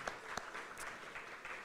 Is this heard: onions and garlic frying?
no